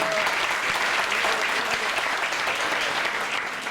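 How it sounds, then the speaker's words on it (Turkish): Audience applause at a community gathering with a city mayor, a loud continuous roar of many hands clapping, dense and unbroken from start to finish. "Bir alkış ona gelsin."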